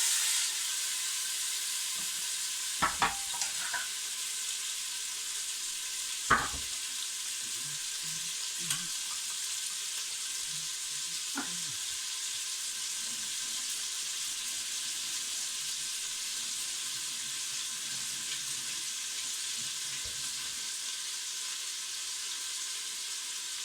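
Tomatoes and onion fry in hot oil for jollof rice, giving a loud, continuous sizzle with a few sharp clicks of the spoon against the pan early on.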